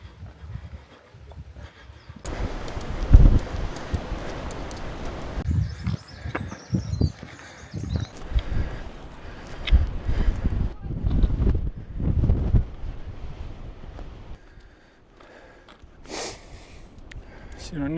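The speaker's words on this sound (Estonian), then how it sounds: "Siin on nii tuuline" Strong wind gusts buffet the microphone on a Pyrenees mountain trail, rising and falling in loud rushing bursts with brief calmer lulls, while a person talks at times.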